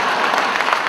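Audience applause at a Hindi stand-up comedy show, a brief dense burst of many hands clapping, loud and close, filling the whole moment.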